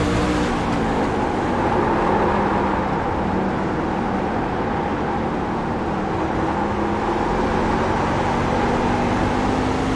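A race truck engine at Lucas Oil Raceway during the Oil Slick 150 drones loud and steady under throttle for the whole stretch, with a sustained roar and no voices over it.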